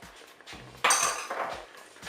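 Metal utensil clinks and scrapes against a cooking pot as Mexican spice mix is stirred into chili con carne, a few short scraping strokes close by with light clatter.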